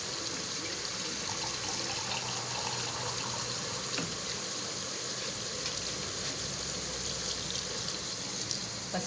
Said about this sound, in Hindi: बस इतना सा पानी मैं डाल रही हूँ इसके अंदर।